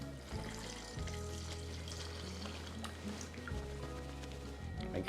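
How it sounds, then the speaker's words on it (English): Curry is poured over seasoned chicken in a bag, giving a quiet, close, wet pouring and splattering sound with a few soft gurgles. "we'll pour our curry right on top of it"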